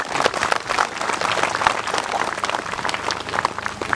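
Audience at a PKK women's gathering in Lanny Jaya regency applauding continuously for about four seconds, dense steady clapping from a crowd, fairly loud and close, with no clear speech over it.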